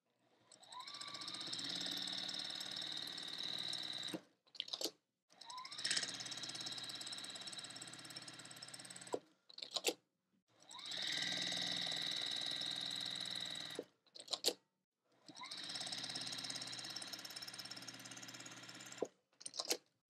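A sewing machine stitches quilt block seams in four long steady runs, each several seconds of even mechanical whirring, separated by short pauses with brief clicks and handling noises.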